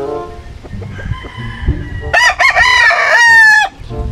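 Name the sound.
gamefowl chickens, rooster crowing at a game farm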